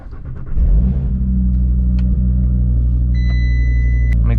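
An Audi RS3 engine cranks and catches after a brief quiet moment, then settles into a loud, deep, steady rumble nearby.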